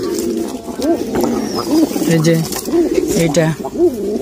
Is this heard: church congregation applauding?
no